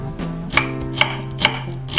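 Shallots sliced with a knife on a board, four evenly spaced crisp cuts in two seconds, close and clear over a faint steady hum.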